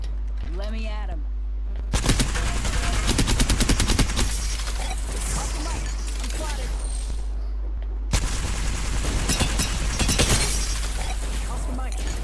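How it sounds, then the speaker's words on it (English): Rapid gunfire from hip-firing a weapon in a video game, bursts of shots in two main stretches with a short pause between, loud and close, with a voice at the start. "Your best bet is to try and hip fire as well."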